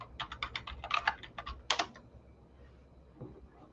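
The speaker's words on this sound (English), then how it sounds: "I wonder if I could find the daughter by typing in the name that was given earlier, Simone Thompson," Quick bursts of keystrokes clatter on a computer keyboard, a fast run of clicks followed by a pause and a couple of final taps, close and fairly quiet with no talk.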